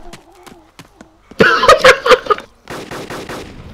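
Loud rapid bursts of gunfire in a multiplayer video game crackle in close succession, mixed with laughing voices from players on voice chat. Fainter taps come before the shots and a second burst follows.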